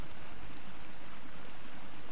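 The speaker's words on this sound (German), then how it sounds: "Und das ist unser Fluss." River water flows steadily in the survival game Miscreated, a dense, even rushing wash with no breaks and no voices over it.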